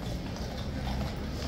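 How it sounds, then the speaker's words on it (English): Horse hooves clip-clop dense and steady as the King's Guard horses move into the stable area at Horse Guards, with broadband crowd and street noise around them. "Horse at the front going into the stable area first."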